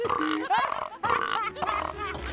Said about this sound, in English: which causes them to constantly burp